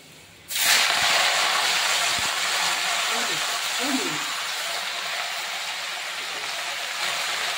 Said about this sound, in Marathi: आता आपण भाजी घालून घेऊया